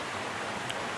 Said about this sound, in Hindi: ये पहाड़ों से नदी गिर रही है तो बड़ी प्यारी आवाज़ कर रही है